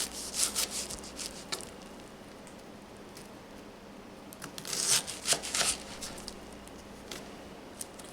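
A knife dices an onion on a cutting board, making faint, irregular taps and soft scraping, with a denser cluster of cuts midway. No one speaks.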